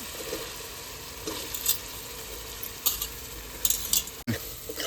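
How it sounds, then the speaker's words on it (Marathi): Onion frying in oil in a wok over a wood-fired stove, a steady close sizzle broken by several bright scraping stirs of the spatula, with no talking. "आपण आता कांदा टाकून घेऊ"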